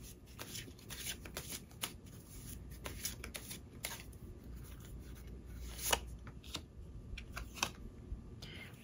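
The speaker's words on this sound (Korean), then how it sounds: "우리 여러분들을 위한 행운 좋은 카드 보면서 이야기 정리해 보도록 할게요." Tarot cards shuffled by hand in a soft, continuous run of riffling and sliding, with crisp flicks and taps scattered throughout at close range, quiet and alone with no talking.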